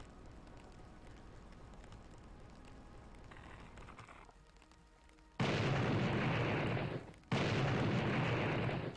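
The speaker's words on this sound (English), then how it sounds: "Seriously, where are these explosions happening?" Explosions in a Doom mod video game that mixes Blood into Doom: a low rumbling background, then two loud, sustained booming blasts, the first long and the second following after a brief gap, with no speech.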